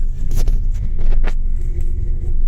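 Steady low road rumble from inside an Uber car driving through neglected streets at rush hour in Paraguay, with a few soft bumps and rattles as it rolls along.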